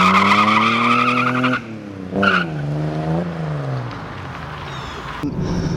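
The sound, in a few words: car tires spinning and chirping during hard launch, MK2 Supra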